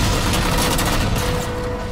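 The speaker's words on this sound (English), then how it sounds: "I have a gun attached to my ship." A ship-mounted gun fires steadily in Halo 4, a dense, sustained stream of rapid blasts with booming impacts that holds at a loud, even level throughout.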